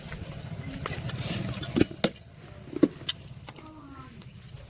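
A bunch of keys jangles in brief metallic bursts, close by, over a steady low rumble and some background voices.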